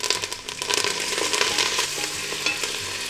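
Shahjeera, green chillies and curry leaves hit hot oil with a loud, close, crackling sizzle that spits and pops continuously for a few seconds.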